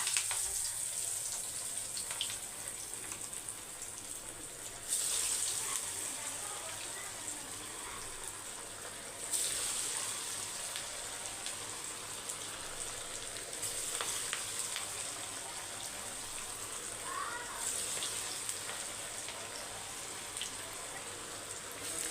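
Oil sizzles and bubbles continuously as vadas deep-fry, with a few brief louder bursts of crackling along the way.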